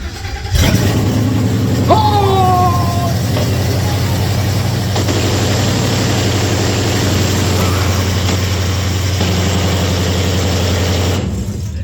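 A truck with newly finished air ride and brakes, its engine running loud and steady after the fuel pump is engaged, a deep continuous drone close by, with brief shouts over it.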